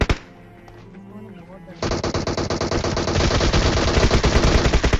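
Gunfire in a battle royale video game match: after a brief quiet stretch, sustained rapid machine-gun bursts erupt and keep rattling loudly, close up.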